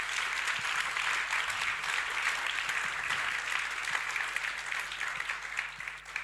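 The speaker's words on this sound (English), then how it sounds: "Can you just give, please, a warm applause to Rosa and Laura?" A conference audience warmly applauds two session speakers, continuous room-filling clapping with a few sharper individual claps and a faint steady hum beneath, tapering slightly at the close.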